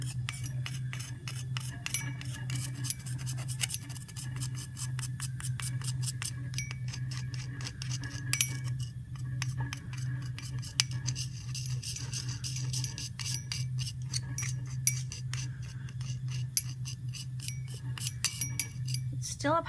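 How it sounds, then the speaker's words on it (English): Copper compound stirred in lab glassware, faint rapid clinking and scraping taps of a stirrer against glass over a steady low hum, continuing throughout at low volume. "Trying to stir it so that it doesn't stick to the bottom."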